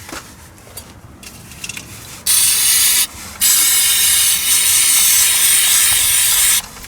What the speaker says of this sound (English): Give that a good clean, some brake cleaner.